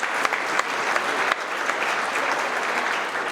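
An indoor crowd of employees at a Melton Truck Lines monthly company celebration claps steadily, a dense, fairly loud round of applause lasting a few seconds.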